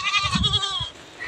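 A goat bleats once nearby, a short wavering cry that is fairly quiet and heard alone.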